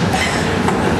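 A Milan tram rolls along its rails with a steady, close, broadband rumble and rattle that stays at an even loudness for about a second, with no voices.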